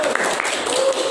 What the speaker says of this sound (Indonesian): beri tepuk tangan buat Mbak Latifah